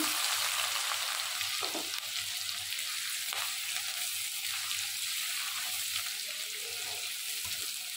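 Cumin and onion fry in hot oil alongside dried chilli, a loud, constant crackling sizzle with a couple of soft stirring knocks.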